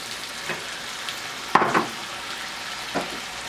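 Chicken breasts frying in a pan for caprese chicken, a constant close sizzle with a few brief bursts of louder spitting as they cook.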